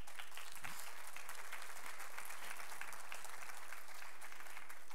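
A church congregation claps together in a steady, dense wash of applause that holds at an even level throughout.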